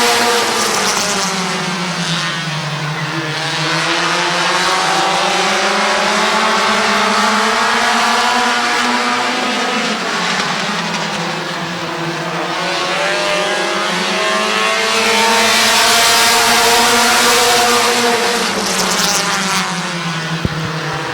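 Race cars at Midvale Speedway during the Fall Classic, heard as a continuous loud engine roar with pitch rising and falling as the cars cycle through the laps, with no talk over it.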